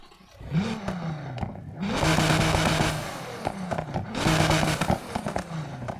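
A tuned Audi S5 exhaust in Need for Speed Heat revs up twice, each climb rising into a loud, sustained roar with crackling pops in between, heard alone at close range.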